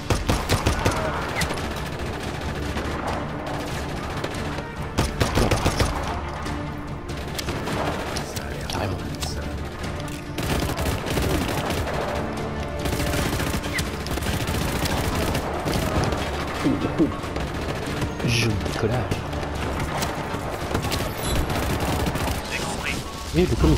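Heavy video-game gunfire in Just Cause 3, dense bursts and booming shots from an attacker under fire, loud and continuous for the whole stretch with a voice talking over it.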